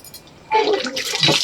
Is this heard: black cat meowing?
no